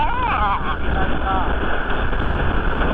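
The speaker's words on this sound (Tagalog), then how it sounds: "Lakas ang hangin, Ben" Strong wind roars steadily against the microphone of a motorcycle rider, a loud constant rumble with some faint tonal sounds near the start.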